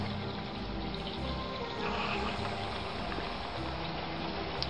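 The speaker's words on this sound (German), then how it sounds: "Hier kommt der Rehbach unter der Straße durch." The Rehbach stream flows through a culvert beneath a road, a continuous rushing, gurgling flow of water, close and steady, with no voices.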